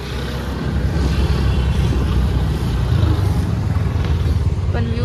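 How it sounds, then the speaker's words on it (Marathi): Steady roar of road traffic in Manali, engines and tyres of cars and motorbikes rumbling continuously at close range, with a brief horn-like tone near the end. "आणि ट्रॅफिक तर फुल आहे इथे"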